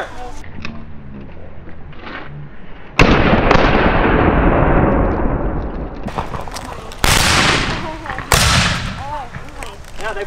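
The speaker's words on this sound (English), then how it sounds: "Now they've fired in turn down the line." Civil War reenactors fire muskets by file down a line at a historic village reenactment, with several loud, sharp rolling volleys and echoing bursts following one another, after a voice gives commands.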